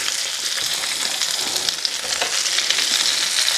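Onions sizzle in a pan alongside cooking hamburger steaks, a loud, constant, crackling fry that runs throughout with no voices.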